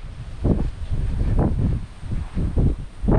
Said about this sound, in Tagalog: ang lakas na naman po ng hangin